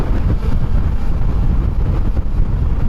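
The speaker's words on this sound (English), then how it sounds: "it's a little breezy" Breezy wind on a bright summer day buffets the microphone with a constant low rumbling roar, loud and close, and no voices are heard.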